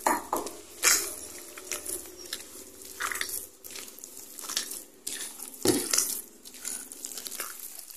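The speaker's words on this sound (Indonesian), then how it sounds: "Aduk lagi sampai tercampur rata antara ikan, bumbu, dan tepung" A spoon works through thick batagor dough of fish, spices and flour in a bowl, with a run of wet scraping and crinkling strokes and a few sharper clicks against the bowl, close and fairly loud, with no talking.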